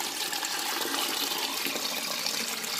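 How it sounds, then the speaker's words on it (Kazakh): Cold water pours steadily into a pot in a continuous rushing splash for a few seconds, close and fairly loud. "Суық суды құямыз."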